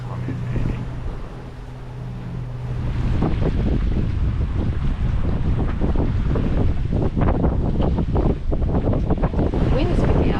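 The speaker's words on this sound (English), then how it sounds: "Wind is picking up." Wind rushes steadily across the microphone aboard a sailing boat, building from a lighter gust into a constant, heavy buffeting roar with faint talk underneath.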